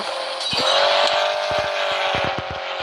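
Car engine in a driving video game, a loud steady drone close up with a rising tone, broken by several sharp thumps and clicks.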